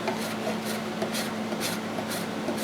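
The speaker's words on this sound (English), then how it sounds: "So I'm going to continue on to grate some of this wax here and get what I need for this batch." A block of wax being grated for a cutting board coating, a steady close scraping rasp with faint repeated strokes running continuously throughout.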